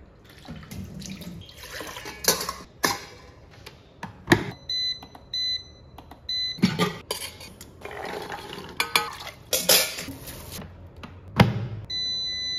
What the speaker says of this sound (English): I'm just going to put everything in the smart cooker